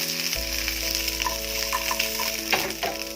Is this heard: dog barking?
no